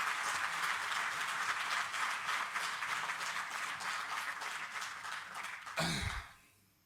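A large crowd applauds steadily and loudly for several seconds, the clapping dense and sustained before a brief thump and quick fade.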